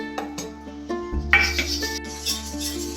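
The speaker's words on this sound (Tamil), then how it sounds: "போட்டு நல்லா கிளறிட்டுருக்கேன்" Ground rice powder being stirred into boiling water in a pot for Thiruvathirai kali: a spoon clinks and scrapes against the pot in short, uneven strokes, close and moderately loud, with a steady low hum underneath.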